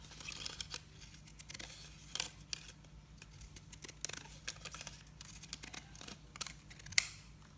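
Large, heavy-duty scissors snip through paper scraps while a box is being decorated, giving a run of close, crisp cuts with rustling paper between them and one sharper snip near the end.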